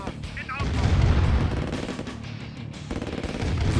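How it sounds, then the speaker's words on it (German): Gunfire from units in Command & Conquer Remastered, a dense, loud run of overlapping shots and booms lasting throughout, with game voices briefly mixed in. "Wieso schießen die eigentlich beim Laufen?"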